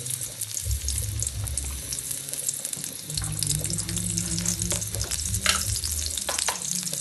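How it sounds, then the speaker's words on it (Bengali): Onion frying in oil in a pan for aloo dum: a continuous close sizzle with scattered stirring scrapes and a low running hum underneath, no speech. "আলুর দামের জন্য পেঁয়াজ তেল দেওয়া হচ্ছে"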